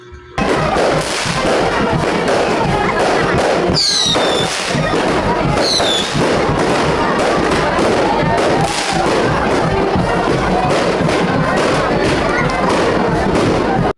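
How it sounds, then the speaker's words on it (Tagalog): Loud, nonstop fireworks crackle and pop in dense bursts at a barangay fiesta display in Cardona, Rizal, with whistling rockets shooting up a couple of times amid the barrage. "manood po muna tayo ng fireworks display"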